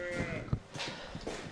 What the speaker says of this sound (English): And then I'm gonna feed the sheep and feed Jesse